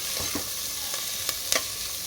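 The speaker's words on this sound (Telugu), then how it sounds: "ఇప్పుడు ఆనియన్ని ఫ్రై చేసుకోవాలి" Onions fry in a tablespoon of oil in a pressure cooker, a soft steady sizzle with a few sharp spoon scrapes and taps against the metal, close and quiet.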